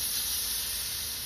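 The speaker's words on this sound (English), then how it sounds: "slowly release your thumb and then spray away" An aerosol spray paint can sprays in one continuous, close, loud hiss lasting the whole moment, with no voices.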